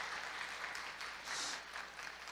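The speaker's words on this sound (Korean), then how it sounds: "우리 박수로 환영할까요?" A church congregation claps to welcome a visitor at a Sunday service, a soft, distant spread of applause lasting a couple of seconds and swelling slightly midway.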